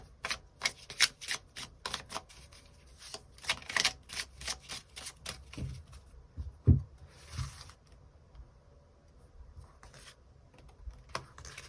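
Tarot cards are shuffled and drawn in quick, crisp flutters and snaps, with bursts of riffling clicks followed by a few softer slaps and a quieter stretch.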